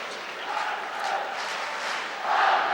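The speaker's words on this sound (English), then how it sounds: "And here comes the crowd. Here comes the roar." An ice hockey crowd at a Nottingham Panthers versus Sheffield Steelers EIHL game rises in a broad, sustained roar that swells louder toward the end.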